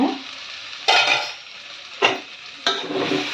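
Eggplant frying in oil in a pan for hotel-style South Indian sambar, stirred in three distinct scraping strokes, each followed by a bright burst of sizzling, heard up close without speech.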